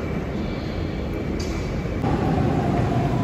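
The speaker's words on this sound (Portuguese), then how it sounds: "Vou pegar o comboio agora." A commuter train in Lisbon, Portugal, gives a loud, continuous rumble with a high whine riding on top, a brief hiss and a slight step up in level partway through, heard up close with no talk.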